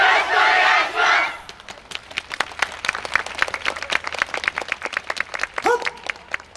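A YOSAKOI Soran festival crowd at an outdoor stage cheers loudly for about a second and a half, then settles into steady rhythmic hand clapping in time, with a brief shout near the end.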